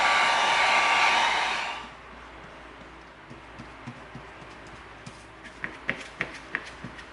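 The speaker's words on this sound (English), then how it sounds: "We're going to heat seal the foam." A heat gun blows loudly on EVA foam for about two seconds and cuts off, followed by quiet room sound with scattered soft taps and handling noises.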